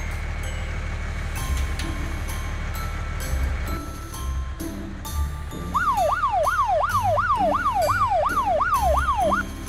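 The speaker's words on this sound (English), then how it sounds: "White color ambulance" A cartoon ambulance siren wails in a fast rising-and-falling pattern in the second half, loud over a steady rumble of street-vehicle noise and scattered clunks.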